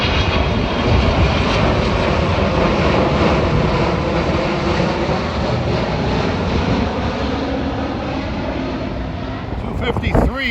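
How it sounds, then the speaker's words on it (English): Heading east from Jamaica, a passing commuter train makes a loud, continuous rumble and rush that holds steady throughout, with a brief clatter near the end and no voices. "Here comes train"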